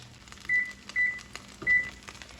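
A kitchen timer sounds three short, clear electronic beeps at even intervals, close by, over faint kitchen background noise while a skillet cooks.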